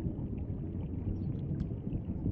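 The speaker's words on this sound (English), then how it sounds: "We're now listening to his engines," Electric engines of a submarine are heard underwater as a low, steady, muffled rumble with a faint hiss above it. The sound is continuous, distant and even throughout.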